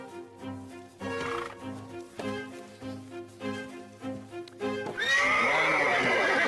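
A nervous horse in a corral gives a loud, drawn-out whinny near the end, following several seconds of rhythmic musical accompaniment.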